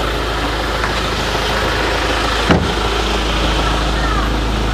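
A Ford Ranger XLT pickup engine idling nearby, a steady low rumble with an even hum throughout and one brief thump around the middle; no voices.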